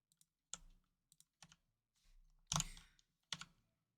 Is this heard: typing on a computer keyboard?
yes